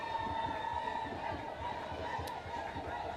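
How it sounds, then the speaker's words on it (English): Distant, boisterous crowd at a women's rugby match between South Africa and Cameroon, a steady murmur of cheering and shouting in the background with a rhythmic chant-like pulse and one brief high whistle-like cry. "I don't know if you can hear the crowd in the background, but they are going wild"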